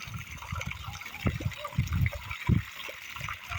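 Garden water runs in a steady trickling wash outdoors on a frosty January day, with a few louder splashy bursts before the flow is shut off.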